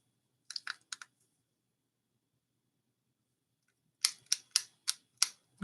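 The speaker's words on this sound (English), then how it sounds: "The clicking noise is this fidget toy." Small handheld fidget toy clicking: a quick burst of three or four sharp clicks, a long pause, then a steadier run of about six crisp clicks, close and fairly quiet with no talking.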